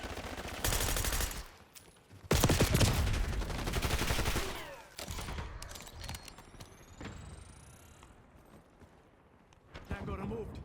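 Gunfire in the Black Ops 6 video game, with bursts of loud shots and automatic fire at the start that trail off into scattered reports, mixed with game effects and spoken radio lines.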